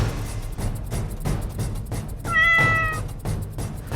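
A cat gives a single clear, drawn-out meow midway through, close and distinct over a steady rumbling background, with no talking.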